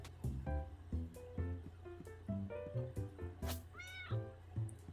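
A cat meows repeatedly in the video game Phoenotopia: Awakening, a rapid string of short, close, clear mews and chirps that runs with no pauses and ends on a longer, rising cry.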